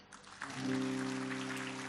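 A church congregation breaks into applause during a sermon, a steady wash of clapping that swells after a soft start, with a sustained tonal hum underneath.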